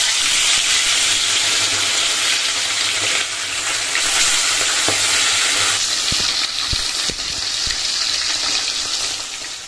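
Fish frying in hot oil in a home kitchen, heard as a steady, dense sizzle with a few sharp pops and spatters near the end, close and fairly loud, with no talking.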